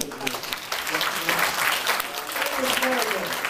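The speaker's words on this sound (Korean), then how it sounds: "큰 박수 한번" Audience applause at a theater performance, a full, continuous clatter of many hands that stays fairly loud throughout, with voices faintly mixed in beneath.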